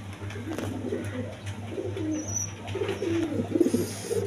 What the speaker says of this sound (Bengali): দেখেন একদম বিগ সাইজের কবুতর